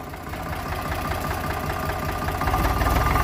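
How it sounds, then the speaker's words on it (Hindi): An Eicher 485 tractor engine runs steadily in low gear, a continuous mid-to-low rumble with a knocking pulse that stays close and fairly loud, growing slightly stronger toward the end. "तो भाई आवाज सुन सको ट्रैक्टर की है"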